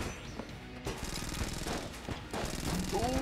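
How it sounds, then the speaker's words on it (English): Rapid gunfire and explosion bursts from a weapon in the video game Enter the Gungeon, dense, repeated crackling blasts running throughout at moderate volume. "and that explosion is making it nice"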